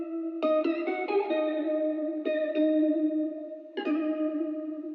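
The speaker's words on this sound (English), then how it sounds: "I added a Valhalla Room, which is a reverb that I really like" An arcade-style synth melody plays as a looping sample, run through Valhalla Room reverb at a low mix with an EQ cutting the lows. Bright plucked notes come in short clusters and leave a wide, shimmering tail.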